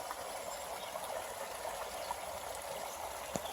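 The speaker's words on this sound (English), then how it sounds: "This is an active, massive waterfall," A steady, broad rush of falling water fills the whole clip, even and continuous with no voices, like a large waterfall heard from nearby.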